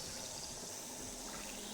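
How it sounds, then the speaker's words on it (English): Trickling water in a water-filled video game level, a soft continuous wash of flowing water heard alone at low volume. "Hearing that trickling of water in a level filled with water."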